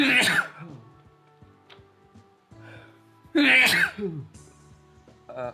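Two loud, sharp sneezes from a sick person, one at the start and another a few seconds later, with a few quiet vocal sounds between them.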